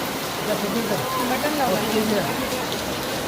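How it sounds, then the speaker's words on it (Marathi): The first rain of the season in Mumbai falls as a steady, dense hiss of rainfall close by, with faint voices audible beneath it. "पहिले पावसाचा आनंद"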